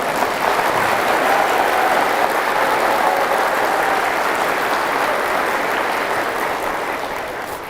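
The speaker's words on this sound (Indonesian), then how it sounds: "Siapa yang paling kuat tepuk tangannya, itu yang paling kuat program-program kemanusiaannya ke depan." A large audience at an Indonesian religious sermon applauds loudly and steadily, a dense sustained wash of clapping that holds for several seconds before easing slightly at the end, with no talking over it.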